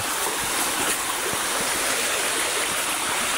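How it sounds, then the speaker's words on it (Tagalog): A river stream flows in a rural field area as a continuous close rush and gurgle of water, loud and steady, with no voices over it. "malapit na tayo sa ilog"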